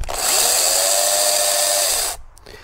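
A Sturm CC9930CL cordless brushless chainsaw runs, its high electric whine holding steady and loud for about two seconds before it stops abruptly, leaving near silence.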